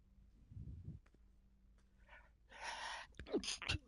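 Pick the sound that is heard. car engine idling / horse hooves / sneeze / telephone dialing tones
sneeze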